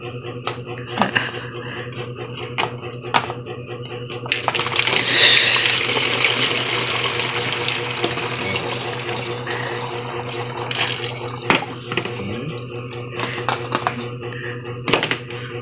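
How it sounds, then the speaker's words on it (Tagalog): Tap water running and gushing into a plastic bottle being made into a homemade chicken waterer, a steady close pour that swells briefly near the start, with light handling noise over it. "So, lalagyan natin ito ng tubig."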